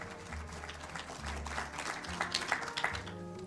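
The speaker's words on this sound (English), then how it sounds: "Big round of applause." An audience applauds at a university inauguration ceremony in Gdańsk, a steady wash of many hands clapping at moderate distance over a low hum.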